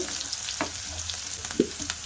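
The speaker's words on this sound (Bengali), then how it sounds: "মশলাগুলো আমি একটু হালকা ভাজা করে নেব।" Chopped onion, garlic and ginger fry in oil with a soft, constant sizzle, broken by a few light scrapes and taps of a stirring spoon against the pan, close and moderately quiet.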